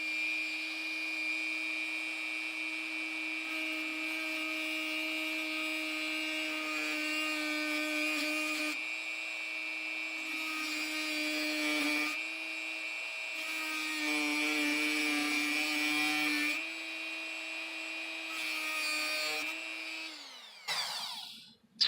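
A Dremel rotary tool spinning near 20,000 RPM cuts into a plastic toy blaster part, a steady high whine that shifts pitch under load, then spins down at the end.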